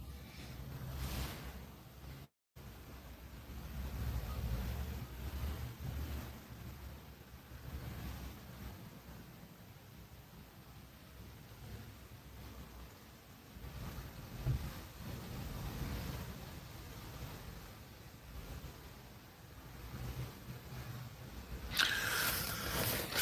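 Gusty wind blows by open water while fishing in strong gusts, a steady loud rush buffeting the microphone with faint surf underneath and no talking.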